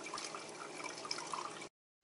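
Tap water runs steadily into a bowl while rice is rinsed in a kitchen sink, a soft continuous splashing trickle that cuts off abruptly near the end.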